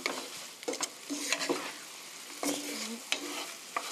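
Fried garlic chicken being tossed in a sticky sweet garlic sauce, with a low sizzle and repeated scraping strokes of a spatula in a pan, close and fairly quiet, no voices.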